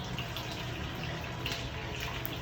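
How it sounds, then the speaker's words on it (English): Duck fat bubbles and sizzles in a pan as duck pieces crisp skin side down, a soft, continuous hissing crackle with no voices. "That sound that I'm listening for is the bubbling of the fat, and it's crispy skin side down."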